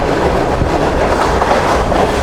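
Steady, close rumble of the Shalimar Express passing through Sarhad station, carriage wheels drumming on the track with light rhythmic clatter throughout and no voices.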